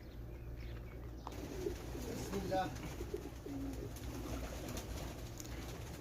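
Pigeons cooing inside a crowded pigeon house, low soft coos recurring through steady murmuring background noise with some human voices nearby.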